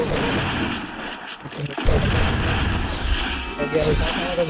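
Gunfire in a video game, aimed for a headshot, sounds as a few sharp, fairly close shots and booms within continuous game noise, with someone talking over it.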